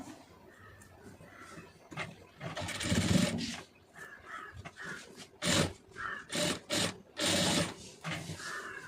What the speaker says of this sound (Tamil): கரெக்டாக அந்த கேப்லேயே அப்படியே தையல் போட்டுக்கிட்டு வாங்க.